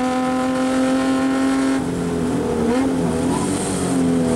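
A Rover 3.5-litre V8 racing car engine roars loud and steady at high revs during a 24-hour saloon race at Snetterton, dipping briefly as it changes down before pulling hard again.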